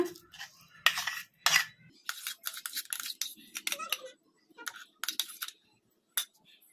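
A spoon clinks and scrapes against a bowl in irregular bursts while brinjal and green chilli paste is stirred into curd, with short gaps of quiet between strokes.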